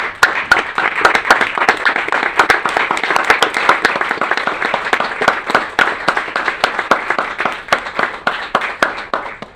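A round of applause fills a city council meeting, many hands clapping in a dense, steady patter that stays loud and close throughout with no talk over it.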